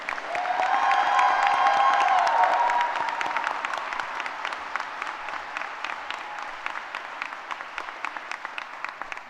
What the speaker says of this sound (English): One more round of applause for our RN graduates.